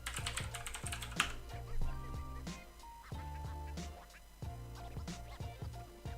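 Computer keyboard typing, a run of quick, light key clicks in uneven bursts, close up over a faint steady background hum.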